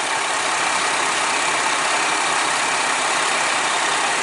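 A 2010 fifth-generation Chevrolet Camaro sits idling with its air conditioning running, giving a loud, close, unbroken whooshing roar that holds steady throughout with no talk.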